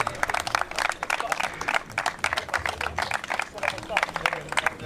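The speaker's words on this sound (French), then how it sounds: "on peut l'applaudir encore une dernière fois" Crowd applauding at the Cantal Motor Show 2021 awards, a dense rapid clatter of many hands, fairly close and sustained, with voices in the crowd mixed through it.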